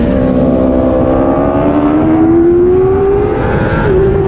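A motorcycle engine revs hard at full throttle, its pitch climbing steadily as it accelerates, loud and close, with the strained roar sustained throughout and a brief shift near the end.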